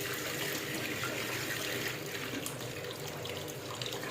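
Hot water running from a household tap into a sink, a continuous moderate gush and splash that stays even throughout with no talking.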